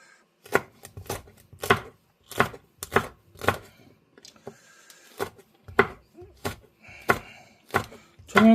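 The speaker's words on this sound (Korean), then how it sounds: "청양고추 이렇게 썰어 주시고" A knife chops Cheongyang chili peppers on a cutting board: about fifteen crisp, close strikes in an uneven rhythm with brief pauses between runs.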